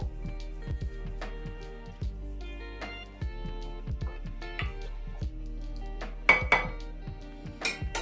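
A spoon clinks and scrapes steadily around a bowl, stirring bulgur with hot water, in a repeating rhythm, close and fairly quiet, with a few sharper ringing knocks near the end.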